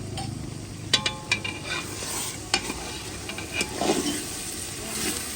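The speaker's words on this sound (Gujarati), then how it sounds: "હવે થોડા ટમેટા નાખી દઈએ એડ કરી દઈ ડુંગળી પાકી ગઈ છે હવે ટમેટાનો વારો આવી ગયો છે" Tomatoes go into a pan of cooked onions and are stirred, giving a few sharp spatula scrapes and clacks over a soft continuous sizzle, close by and with no talking.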